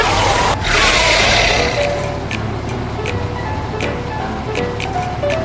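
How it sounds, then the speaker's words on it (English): A cartoon school bus in the Baby Panda driving game speeds up, giving a loud, steady engine-like drone with a burst at the start and a few bright chimes scattered over the sound. "Push the handle to speed up the car."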